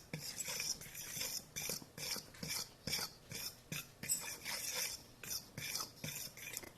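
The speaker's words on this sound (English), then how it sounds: "my metal cheese grater, which we're going to grate the butter into the flour with" Frozen butter is scraped over a metal cheese grater into flour for sweet potato biscuits, a quiet run of short rasping strokes repeating at a steady, even rhythm close by.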